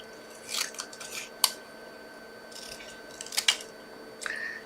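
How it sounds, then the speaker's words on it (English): Scissors snip a small paper flower craft piece, a few short crisp cuts spaced apart, close and quiet with no talk. "Just going to cut that back, scissors."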